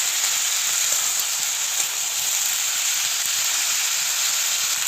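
Flat bean curry cooks covered in a pan on a low flame with steam escaping. The result is an even, unbroken hiss and gentle bubbling at moderate loudness, with no speech.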